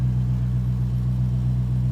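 A 1968 Mercury Cougar XR7 engine idles steadily with a low, even rumble, close by and unchanging for two seconds, no voices.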